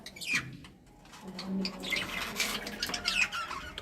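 Caged lovebirds squawk and chirp in sharp, close bursts with softer cooing calls between them, and no voices.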